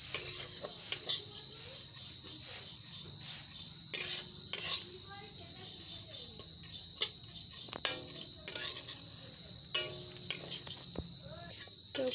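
Semai vermicelli frying in a pan for a sweet semai dish, heard as a soft continuous sizzle with repeated scraping and clinking of a spoon against the pan, loud stirring bursts coming every couple of seconds.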